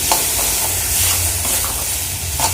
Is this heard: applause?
no